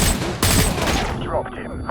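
Rapid gunfire from a weapon in the video game Modern Warfare 2, a loud fusillade of close shots that cuts off and trails into fainter reports and muffled sound.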